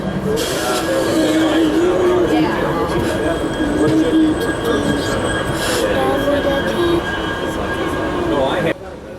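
Model trains run around a layout with a steady rolling rumble and thin wheel squeals, continuous and fairly loud for most of the stretch before cutting off near the end, with voices faintly beneath.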